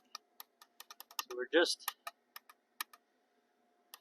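A diesel quad's starter gives sharp, dry clicks, single ticks at irregular intervals, faint and close, with a brief spoken voice in the middle.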